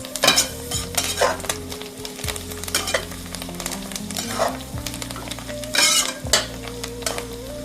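Chopped ingredients mixed in a sizzling pan for Pollachi-style mutton biryani, loud continuous frying hiss with repeated bursts of spatula scraping and stirring, close and without speech.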